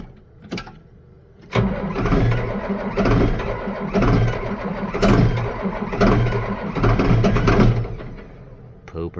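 Engine starting and running while hauling manure, a sputter then a steady close idle that rises with added throttle, rumbling on throughout with irregular swells.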